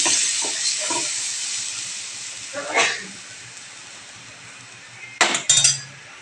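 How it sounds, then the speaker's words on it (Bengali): Water is poured into spices frying in oil in a home kitchen, setting off a sudden loud hissing sizzle near the end after quieter frying and light utensil clinks. "তেল ছাড়তে শুরু করেছে মশলাগুলো এবার আমি পরিমাণ মতন জলটা দিয়ে দেবো দেখো"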